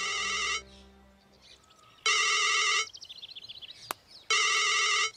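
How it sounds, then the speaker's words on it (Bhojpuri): A mobile phone ringtone plays in short melodic bursts, with three loud electronic chime phrases separated by gaps. Faint chirpy tones and a brief click fall between the bursts, and there is no talk. "केकर फोन है?"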